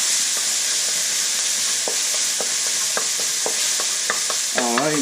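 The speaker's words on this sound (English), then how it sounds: "Cook the garlic for a few seconds to get that rawness out of the garlic." Chopped garlic stir-frying in a wok, a loud steady sizzle with a regular series of sharp scraping ticks from a utensil and a brief clatter near the end, close with no voices.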